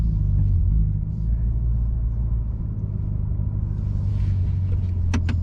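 A Chevrolet Corvette C8 launching under launch control gives a loud, steady low engine rumble that holds throughout, with a brief higher burst near the end.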